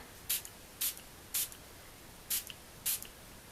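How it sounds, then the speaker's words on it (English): Five short hissing bursts of spray, close by and fairly quiet, come in an uneven rhythm with brief silences between them. "I'm just going to do the same again. I'm going to spray"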